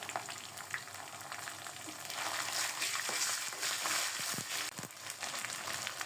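Ginger-garlic paste hits fried onions in a pan, raising a loud, steady sizzle of frying with stirring scrapes and occasional clicks, growing fuller partway through.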